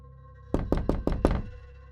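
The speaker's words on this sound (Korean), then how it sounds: "누군가 제 방문을 두드렸습니다" Five quick, evenly spaced knocks on a room door ring out crisply and close, alone against a quiet low hum, a horror radio sound effect.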